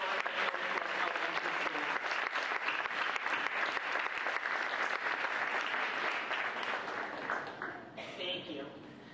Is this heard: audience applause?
yes